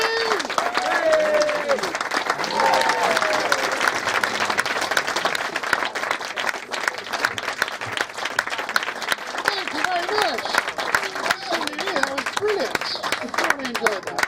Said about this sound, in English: We'll lead the applause for the next